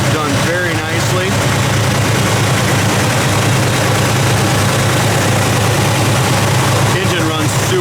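A 1969 Chevrolet Chevelle Super Sport V8 with a mild performance cam idles steadily, a loud, smooth, low rumble that holds constant throughout with no revving.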